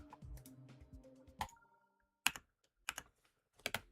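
Computer keys click during gameplay: a few quick clicks near the start over faint tonal game sounds, then sharp isolated clicks and a short rapid cluster, close and fairly quiet.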